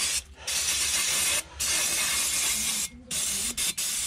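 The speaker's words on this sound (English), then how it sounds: "blast with brake cleaner." Brake cleaner sprays from an aerosol can in several loud hissing blasts near a 2015 Ford B-Max's front brakes, separated by short pauses, close and alone.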